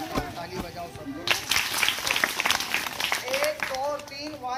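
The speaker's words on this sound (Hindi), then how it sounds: "ताली बजाओ सब लोग" Applause from a school audience at a science and magic show breaks out partway through, with scattered clapping that grows into dense, uneven applause amid chatter and voices.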